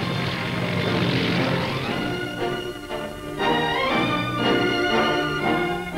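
Propeller aircraft fly past at the Farnborough air display, their engines droning loudly and steadily, with the tone shifting as they pass overhead and the roar swelling again toward the end.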